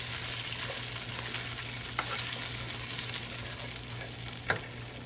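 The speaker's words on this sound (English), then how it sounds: "I'm just going to move this around, let it start toasting." Whole cumin and oregano toasting in a little oil in a pan, a steady low sizzle with occasional light ticks and scrapes as the spices are stirred around.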